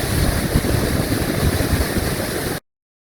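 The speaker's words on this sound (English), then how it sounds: "it was so loud and the sound of the rushing water" Rushing water of Lundbreck Falls, a small waterfall in Alberta, pours in a loud, steady, broadband roar that stays constant and close before cutting off abruptly.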